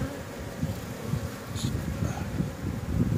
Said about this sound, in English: I've got a lot of drones, the bigger bees on here